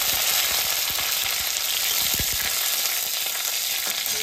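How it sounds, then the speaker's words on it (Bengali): Dried red chillies frying in hot oil give a continuous loud, bright sizzle with small crackles and pops, close up and steady throughout. "আমার তেল গরম হয়ে গেছে। এইবার দিয়ে দেবো শুকনো লঙ্কা।"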